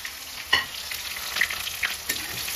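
Onion and green chili frying in a pan for a Teej celebration meal: a soft, steady sizzle with a few stirring clinks and scrapes, close by and fairly quiet.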